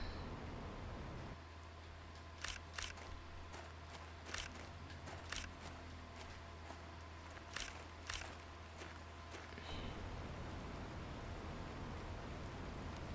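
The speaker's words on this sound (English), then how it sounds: "It's raining, we love it" Steady soft rain falls in the Planet Crafter video game, a faint even hiss under a low hum, with several sharp clicks scattered across the clip.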